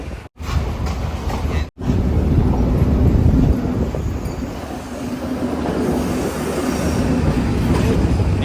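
A coastal train in Sri Lanka runs on its rails with a loud, continuous rumble and wheel noise heard from inside the carriage, steady throughout apart from two very brief dropouts near the start.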